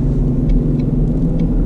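Low, steady engine rumble from a 2019 Ford Mustang GT with 6-speed manual and auto rev-match downshifting, heard from inside the car, with a continuous drone and a few faint higher ticks over it.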